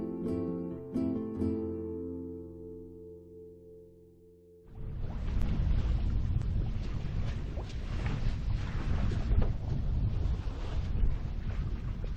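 Compac 16 sailboat on Lake St. Clair, first a fading tonal music chord, then loud wind buffeting the microphone and water rushing past the hull, steady and continuous without talk.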